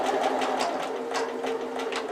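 A sewing machine stitches a laptop bag, a rapid run of mechanical needle clatter with a steady hum, close and fairly loud, with no talking.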